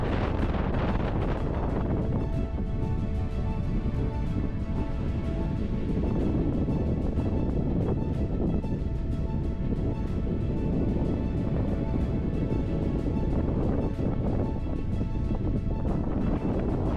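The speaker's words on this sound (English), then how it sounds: "It's so windy here" Strong wind at a fire lookout on Greenstone Mountain, British Columbia, buffets the microphone continuously, a loud, roaring rumble with gusty surges and no pauses.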